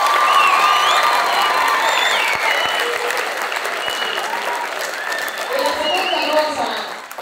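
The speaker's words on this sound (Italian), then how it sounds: "un applauso lo dobbiamo fare a queste persone" A school audience in Addis Ababa, many of them children, breaks into loud sustained applause with cheering, whoops and high shouts mixed into the clapping, full and close throughout before easing slightly at the end.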